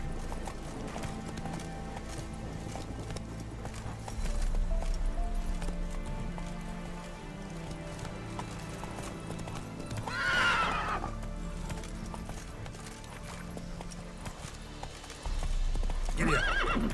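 Horse galloping in The Witcher video game, a steady rhythmic clip-clop of hooves throughout, with a loud neigh midway and a brief bit of rider's speech.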